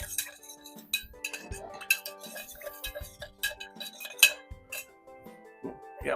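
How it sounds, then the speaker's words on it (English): Ice and a bar spoon clink steadily against a glass while a holiday cocktail with sloe gin is stirred, producing a fast run of bright metallic chinks up close with no talking. "we're going to stir the heck out of this."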